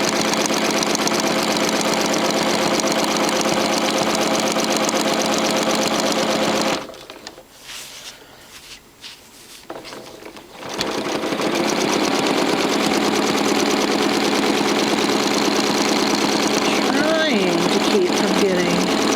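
A sewing machine free-motion quilting feathers runs in a steady, loud mechanical hum with rapid stitching, pausing briefly midway before resuming at an even pace.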